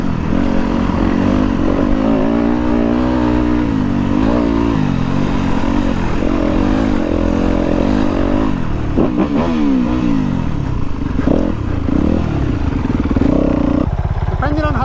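A 2023 Kove FSE 450 R Rally motorcycle engine drones and revs continuously while riding off-road over berms and climbs, loud and steady with rising and falling pitch, and people talking over it.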